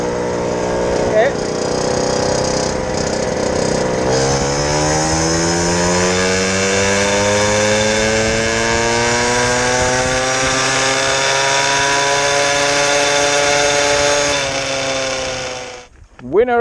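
Peugeot Fox 50cc moped engines racing, a loud buzzing two-stroke drone that climbs steadily in pitch as they accelerate, held close and sustained before dropping away at the end.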